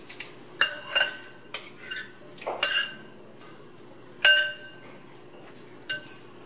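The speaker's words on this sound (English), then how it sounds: "ground turkey with gravy, and I'm going to just place that in the bottom of my casserole dish." Ground turkey in gravy spooned into a casserole dish for shepherd's pie, with a scattering of sharp clinks of a spoon against the dish and soft wet scraping between them, close and without talk.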